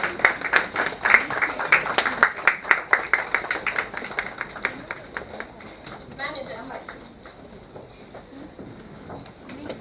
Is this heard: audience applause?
yes